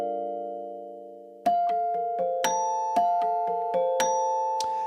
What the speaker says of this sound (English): Here we have the dulcet tone clear bells with the reverb turned off.